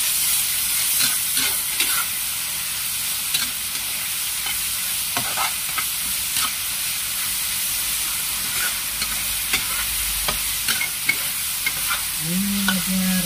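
Long beans and sausage stir-fried in oyster sauce make a steady loud sizzle with frequent spatula scrapes and clicks against the pan, and a brief voice-like tone shows at the very end.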